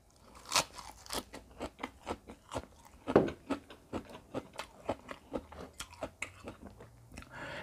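Crunchy soy-pickled giant tiger prawn, marinated in Korean soy sauce and mirin, bitten and chewed close up: a steady run of crisp, wet crunches and smacking bites, with no talking.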